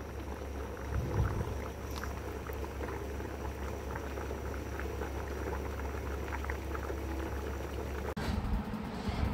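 A pot of dried fish and eggplant curry bubbles and simmers steadily, a soft continuous sizzle and bubbling with a low hum beneath it, faint and close, with a brief clunk near the end.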